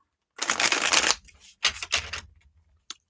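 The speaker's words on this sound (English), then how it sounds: "Let's give these a shuffle here." Tarot cards shuffled at a live reading, with two dense riffling bursts close up, each about a second long, then a single short tap near the end.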